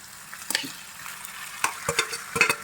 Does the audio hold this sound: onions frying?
yes